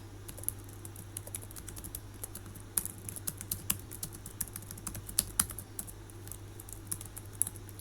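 Rapid, irregular clicking of computer keyboard keys as code is typed, close and crisp over a low steady hum, with no talking.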